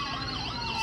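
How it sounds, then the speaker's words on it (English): Brief burst of a wailing ambulance siren, played during a pretend emergency response to a dislocated shoulder at a Cleveland restaurant, heard alone at steady volume. "Paramedic Anderson, just turn your siren down just a bit"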